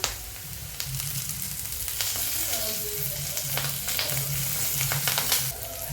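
Curry leaves hitting hot oil with salted onions in a pan for a sorghum dish, a faint, steady sizzle with scattered crackles and occasional stirring scrapes throughout.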